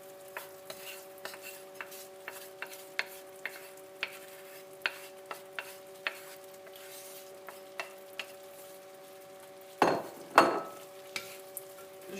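Peppers and chili peppers frying in a pan while being stirred, soft sizzle under regular spoon taps and scrapes, with a couple of louder clatters near the end.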